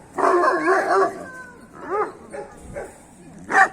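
Kangal shepherd dog puppies about a month old give a few close yips and short barks with brief whimpering gaps between them.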